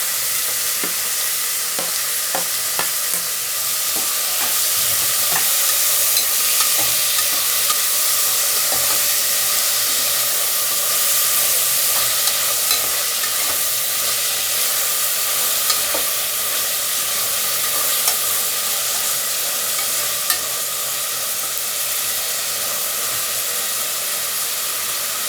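Tomatoes stir-fried in a pan for meal maker biryani, a steady close sizzle and hiss with occasional scraping stirs throughout, no talking.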